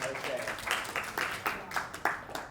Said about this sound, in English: Okay, give yourself a round of applause.